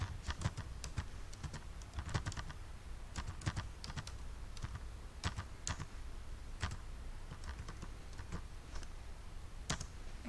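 Someone types on a computer keyboard while writing Python code, producing a quiet, irregular stream of sharp key clicks, some in quick clusters and some spaced apart.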